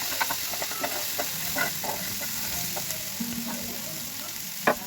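Spices frying with tomato and onion in a pan for a seed bhorta, a steady sizzle under scattered stirring scrapes and a sharper clack near the end, with no talk.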